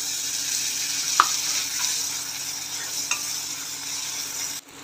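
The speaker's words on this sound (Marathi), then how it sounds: "छान प्रकारे मिक्स करून घेऊया।" Chopped tomato and spices, including coriander and cumin powder and garam masala, are stirred in a hot pan for a sprouted green moong bhaji. A steady sizzle runs under a few sharp spoon taps on the pan, and the sound cuts off abruptly at the end.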